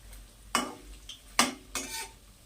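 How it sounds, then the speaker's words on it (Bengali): Cauliflower pakoras frying in a pan, stirred with a utensil: three sharp scraping clanks against the pan over a faint background, with no talk. "গরম গরম পকোড়া একটু নাড়িয়ে দিই।"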